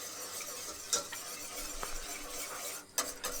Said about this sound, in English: And briskly mix it in, trying to get rid of those lumps